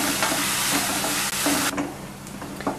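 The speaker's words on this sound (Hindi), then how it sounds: "और अब मैं, ये तेल गरम हो गया है, इसमें प्याज डाल रही हूँ।" Loud, steady sizzling of onions hitting hot mustard oil, a dense hiss close up that eases slightly partway through as stirring continues.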